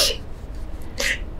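Two sharp sneezes about a second apart, close and fairly loud, each a quick hissing burst over a quiet background.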